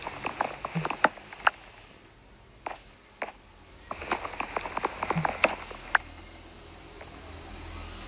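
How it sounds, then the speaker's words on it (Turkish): Rain falling in the video game Minecraft makes a steady, soft patter with scattered sharper drip-like ticks, heard alone at a moderate level. "Aa hava yağmurlu."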